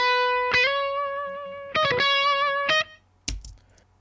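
Electric guitar through a Neural DSP Archetype Nolly amp sim on default settings, every knob at noon: three ringing, sustained notes or chords struck with short gaps, then a brief muted hit at the end, alone and fairly loud.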